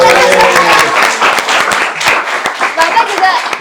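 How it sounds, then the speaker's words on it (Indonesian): Loud, brisk applause and clapping from an audience for a lecturer, mixed with crowd voices talking and calling out over the claps throughout. "Tepuk tangan dong untuk Pak dosen"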